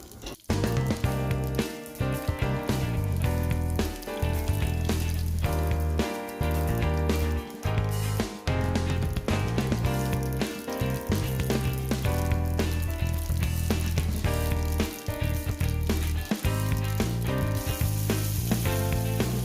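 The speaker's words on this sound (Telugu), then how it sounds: "పోపు దినుసులు వేసుకొని వేయించుకుందాం" Tempering spices sizzle and crackle loudly in hot oil in a kadai on a stove, a dense continuous frying hiss with occasional stirring clatter, for a tamarind-leaf and ridge gourd curry.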